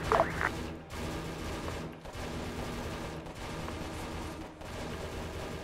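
Machine gun fire in ArmA 3, sustained bursts of rapid shots with brief gaps roughly every second, steady and moderately loud.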